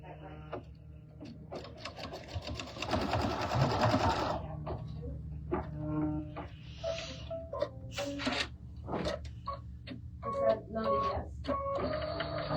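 An embroidery machine stitches fabric pieces in the hoop while making a Christmas table runner. Its rapid mechanical tapping and whirring comes in bursts, broken by sharp clicks, with occasional talking in the room.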